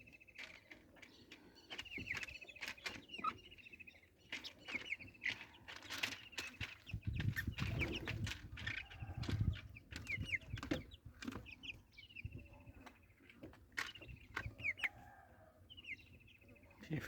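Free-range village hens cluck and call in the sun, with repeated short clucks and squawks scattered throughout, near and moderately loud over a soft rustling yard background.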